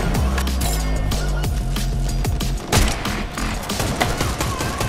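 Dense Fortnite gunfire cracks in rapid bursts and volleys, loud and close, with a heavier burst of shots near the middle and continuing fire to the end.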